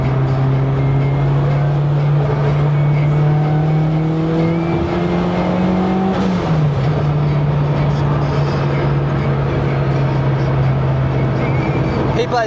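Loud car engine on a night drive, a steady low drone rising in pitch as the fast car accelerates, then dropping sharply at a gear change before pulling again, close and continuous without speech.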